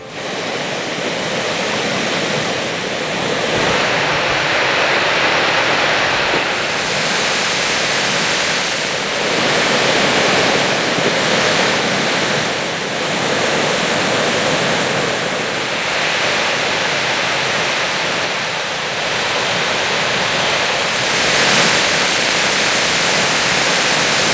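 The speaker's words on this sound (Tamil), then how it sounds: "அணையிலிருந்து தண்ணீர் வெளியேறும் ரம்மியமான காட்சிகள்" Water from the rain-filled Gundar dam in Tenkasi district rushes out with a loud, steady roar. The dense hiss carries on unbroken throughout, with only slight surges and no voices.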